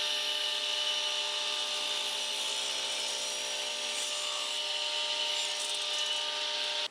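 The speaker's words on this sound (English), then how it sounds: "put the regular saw blade back on, and we can make all the straight cuts to make this little box" Radial arm saw with a regular blade making straight cuts through wood for a small box, a steady loud whine held throughout with no pauses and no talk.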